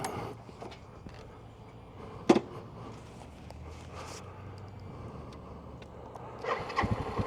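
A Suzuki TU250 single-cylinder motorcycle cranks with a sharp click, fires and settles into a quiet, steady idle with faint mechanical chatter. The engine revs up briefly toward the end.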